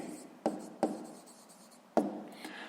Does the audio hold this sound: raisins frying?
no